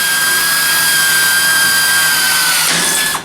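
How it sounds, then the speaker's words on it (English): A power drill whines steadily at high pitch, loud and close, drilling out spot welds in the metal body of an XB Falcon for about three seconds before spinning down at the end. "We're drilling out the spot welds to get rid of that piece of flange"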